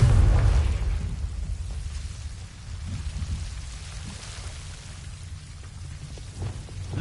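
A Confringo blasting spell goes off in Hogwarts Legacy: a heavy low boom at the very start, then a long rumbling, crackling tail that slowly fades to a rain-like hiss.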